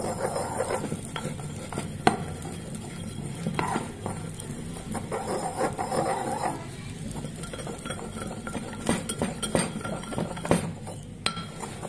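Ingredients get stirred together in a bowl with a utensil, producing repeated scraping and mixing strokes and occasional clinks of metal against the bowl, close and uneven in rhythm, with no voices.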